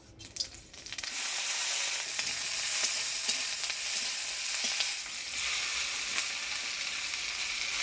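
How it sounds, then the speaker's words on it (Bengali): Taro leaves frying in hot oil with black cumin, garlic and green chilli, a loud steady sizzle and hiss that starts after a brief clatter and holds throughout, with no talk. "কালো জিরা রসুন কাঁচা লঙ্কা আর কচুর পাতাটা তেল দিয়ে ভেজে নেব"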